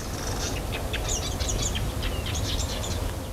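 A small bird sings a squeaky, intricate song of quick high chirps and trills in short repeated bursts, clearly heard over a steady outdoor hiss with no talk.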